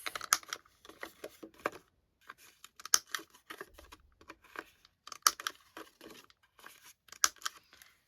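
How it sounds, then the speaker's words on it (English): Close, crisp clicks and snips of a corner punch rounding the corners of a paper card, several short sharp bursts in quick clusters with quiet gaps between. "We're going to round the corners on this."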